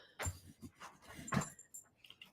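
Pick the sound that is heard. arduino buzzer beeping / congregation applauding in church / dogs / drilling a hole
dogs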